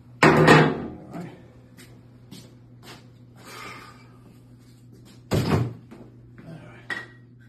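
A door being swung shut, with a sharp slam near the start, a second heavy thud later and a lighter knock at the end, close and loud against a quiet room.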